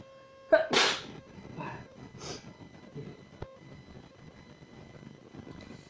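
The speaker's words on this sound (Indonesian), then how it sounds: "Tunggu dulu teman-teman bersin." A single sharp human sneeze bursts out close and loud near the start, then fades to a quiet room hum with no one talking.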